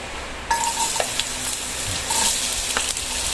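Garlic sautéing in a pan for a coconut-milk fish dish, a steady close sizzle broken by a few light stirring scrapes, with no voices.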